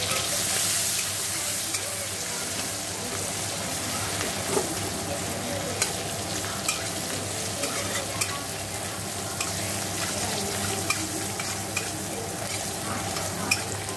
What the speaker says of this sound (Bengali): লঙ্কা কুচি দিয়ে দিলাম,